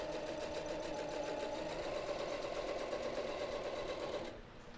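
A domestic sewing machine quilting a feather spine runs in a steady, close, continuous hum of rapid stitching, then cuts off near the end, leaving only quiet room tone.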